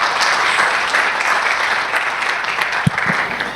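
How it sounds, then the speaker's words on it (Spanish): An audience applauds a speaker at a business club event, a dense, steady wash of clapping from many hands that holds evenly before tapering at the end. "Entonces los dejo con Óscar, denle un aplauso por favor, muchas gracias."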